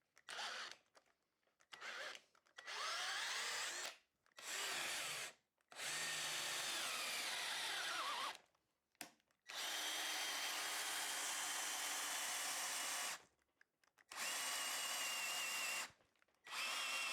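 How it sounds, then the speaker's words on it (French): A Ryobi RDD18 18V cordless drill-driver with a twist drill bit runs in repeated bursts of a few seconds each, close and loud, with short silent pauses between them. "Je préfère percer avec du forêt."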